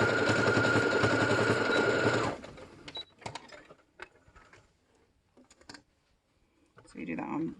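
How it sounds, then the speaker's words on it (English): A sewing machine runs a steady straight stitch across fabric mask pleats for about two seconds, then stops, followed by quiet handling clicks and a brief voice. "I just do it one time for this sewing machine"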